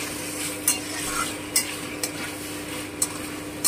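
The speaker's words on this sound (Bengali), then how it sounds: "এই যে আমার মশলাটা প্রায় কষানো হয়ে এসেছে।" A spice paste cooks in ghee for Bengali shukto, with a steady sizzle broken by a few bright spatula scrapes against the pan at irregular intervals.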